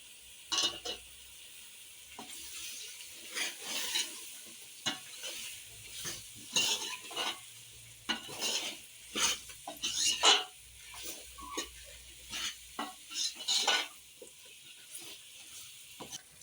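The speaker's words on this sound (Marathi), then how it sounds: "तो शिमला मिर्ची टाकते त्याला ढवळून घेते" Capsicum being stirred in a hot pan: a spatula scrapes and clatters in irregular bursts over a soft, steady sizzle, close and fairly loud, with no talking.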